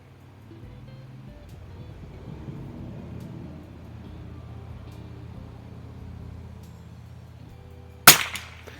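A 1938 Mossberg 43 .22 LR target rifle fires a single sharp, loud crack near the end at an outdoor range, after a stretch of low background rumble.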